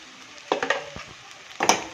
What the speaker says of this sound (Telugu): బాగా కలిపి ఇదంతా ఉప్పు కారం పట్టేటట్టుగా తిప్పుకొని